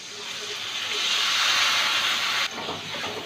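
A splash of water hits spices frying with chopped green chilli and turmeric, giving a loud, close hiss of steam that swells, holds, then suddenly drops in level.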